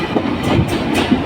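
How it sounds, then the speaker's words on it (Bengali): The Sundarban Express passenger train rolls into Darshana Halt station at night, with a loud, close, continuous rumble of wheels and carriages and faint rhythmic clacking. "দেখতে পাচ্ছেন সুন্দরবন এক্সপ্রেস ট্রেনটি রাতে দর্শনা হলডে প্রবেশ করলো"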